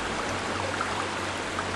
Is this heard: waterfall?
yes